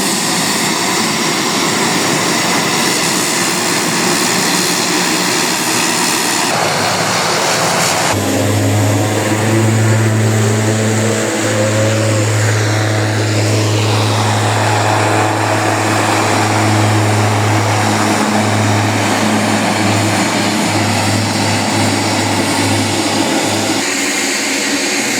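A large passenger helicopter spinning up for a flight from Lukla to Kathmandu, a loud steady turbine whine with a deep droning hum building in, close and continuous for about twenty-five seconds.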